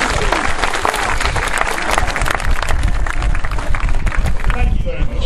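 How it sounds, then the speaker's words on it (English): An audience at a sea lion show at Flamingo Land applauds a sea lion's hoop catch, steady dense clapping from a large crowd lasting throughout, with voices mixed into the applause. "If he gets this one, give him a clap, Marvin."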